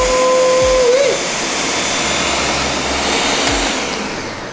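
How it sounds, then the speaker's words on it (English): A blender pulses butternut squash soup, giving a loud, steady whirring motor roar with a brief pitch shift near the start, running throughout without talk. "now you got your babies in the blender, you lock and load, and you pulse."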